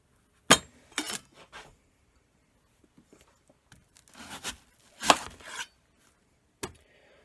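A knife dices an onion on a cutting board for a vegan cheesy pepperoni pizza casserole, giving scattered sharp chops and clustered taps, close and crisp, with quiet gaps between bursts.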